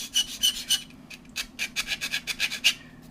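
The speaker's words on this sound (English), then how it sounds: "nail file and just run across this until we can get right to, oh, don't you love that sound" A nail file scrapes back and forth across a cut body, quick close rasping strokes in short irregular bursts, about a dozen in three seconds.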